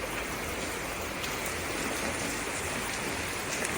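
Heavy, steady rain pours down on a church construction site, a dense unbroken hiss of falling water with no pauses or talking.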